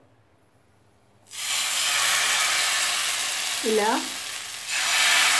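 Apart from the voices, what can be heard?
dosa batter poured onto hot oiled pan, sizzling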